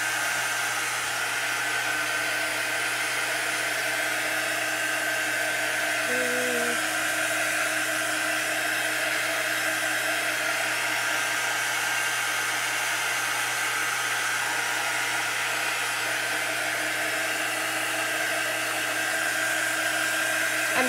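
A hair dryer runs close by at a steady, even whine, drying chalk paste on a Chalk Couture surface, with no break for the whole stretch.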